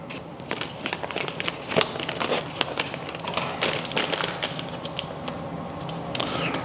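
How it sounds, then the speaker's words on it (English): Crinkly plastic bag of shredded cheese being handled and cut open while making old-school mac and cheese, a close, busy run of rustling, crackling and sharp snips with no talk. "Let me cut this bag open."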